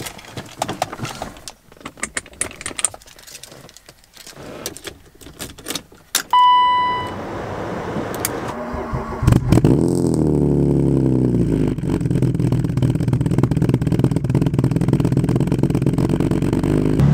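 Keys jingle and clatter, then a BMW E36 engine cranks, catches and settles into a loud steady idle with a slight rev, close by.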